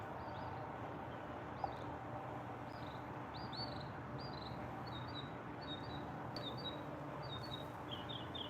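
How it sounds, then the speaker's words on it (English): Several small birds chirp and call in a garden, short bright tweets scattered throughout at moderate distance over a steady low outdoor rumble, with no one talking. "the birds, very active"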